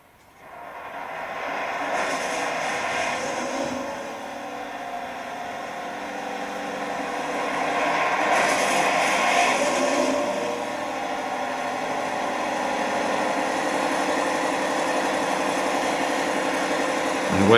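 A model locomotive's diesel sound module runs steadily after starting up, a droning engine note that swells twice with louder revving passages before settling back to a constant idle.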